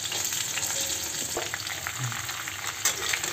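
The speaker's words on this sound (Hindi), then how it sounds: "अब जीरा हमारा पक चुका है अब इसमें हम मिर्च दें दो अब इसमें हम कटा हुआ सब्जी डाल दें" Chopped vegetables hit a hot pan of frying cumin and chilli while cooking chathila bhujia, giving a steady close sizzle and crackle with a few stirring scrapes and no talking.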